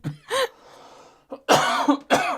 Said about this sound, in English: I don't even think it's a contagious cough.